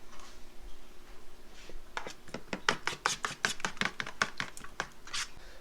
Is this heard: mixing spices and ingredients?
yes